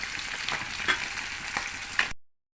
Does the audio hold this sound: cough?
no